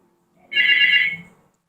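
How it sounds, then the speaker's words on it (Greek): A telephone ringtone sounds once, a bright electronic tone held for about a second, clear and alone with no talk. "Τηλέφωνο."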